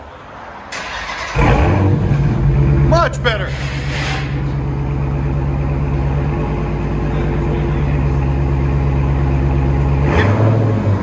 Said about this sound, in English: Give it gas. Come on, rev it, man.